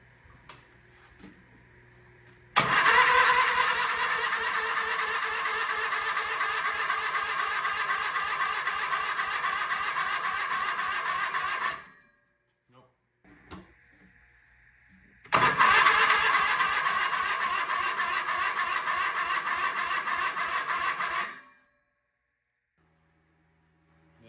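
Engine on a 1975 Sears SS16 lawn tractor with a faulty carburetor cranks in two long starter bursts of roughly nine and six seconds, each cutting off abruptly without the engine catching. Between and after them there are quiet pauses.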